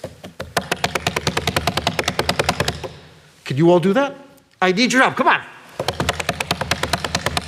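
Rapid, rhythmic pattering and thumping from a crowd imitating fire drums at a Rosh Hashanah family service, broken by a voice speaking loudly in the middle before the rhythmic tapping resumes.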